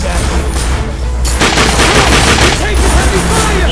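Gunfire in the video game The Darkness II, a dense, loud barrage of rapid overlapping shots and blasts filling the whole stretch, with a voice briefly audible underneath.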